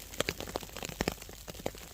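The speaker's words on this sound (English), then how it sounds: "It's still raining, a snow mix." Mixed rain and snow patter on a hammock during a cold mountain ice storm overnight, with scattered close taps and soft pelting hits in an irregular rhythm.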